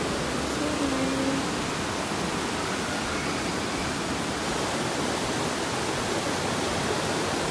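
A river flows steadily near a mountain camp at Gunung Kerunai, a loud, continuous broadband rush of water with no pauses, no other sounds standing out.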